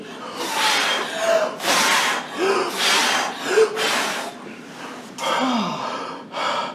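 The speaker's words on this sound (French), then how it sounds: "soufflons fort dans ce récipient et tu verras de grandes vagues" Someone blowing hard into a container, several loud breathy gusts in a rhythmic series of about seven bursts, close up, with faint vocal sighs between them.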